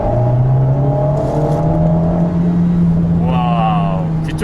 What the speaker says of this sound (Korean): 뒤쪽에서 굉장히 재미있는 배기음을 경험할 수가 있습니다